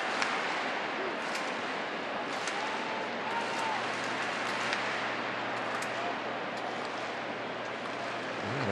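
Large crowd of about 36,900 at a Mariners versus Rangers baseball game, a steady broad roar of murmuring and cheering that fills the stadium throughout with no distinct peaks.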